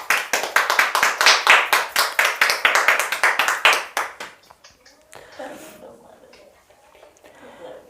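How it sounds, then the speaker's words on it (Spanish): A church congregation claps in a loud, brisk, rhythmic burst for about four seconds, then the clapping quickly thins out and fades into quieter room noise. "¿Cuánto le dan un aplauso a Dios?"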